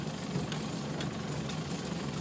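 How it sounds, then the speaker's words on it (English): A Land Rover Defender's engine runs steadily in a field with a low, even mid-range rumble and no talk. It sounds like a struggling idle or low-rev drone. "go on, accelerate, your engine's dying"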